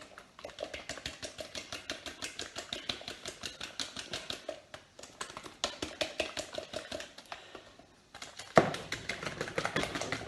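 Double cream whisked by hand with a handheld whisk in a bowl while baking scones: a fast, steady run of light clicking taps, briefly pausing before resuming slightly louder.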